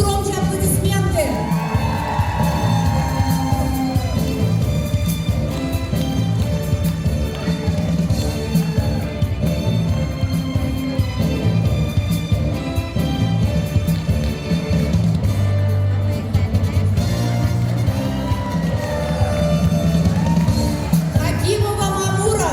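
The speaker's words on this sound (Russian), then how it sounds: "Громче, громче аплодисменты." A large event audience cheers, shouts and claps continuously at full volume, a dense crowd roar with children's voices rising through it, recorded close and filling the whole stretch.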